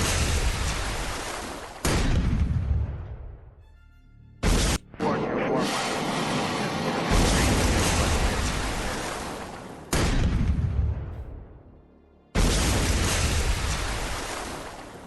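Repeated heavy torpedo-hit explosions in Command: Modern Operations, each a sudden loud blast that slowly rumbles away into a surf-like roar, with several bursts arriving in succession and no talk.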